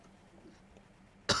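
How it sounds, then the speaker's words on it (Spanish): One abrupt cough lands close to the microphone near the end of a quiet stretch, loud against faint background hiss during a Rocket League gaming session, with no talking. "Perdón, perdón por la tos."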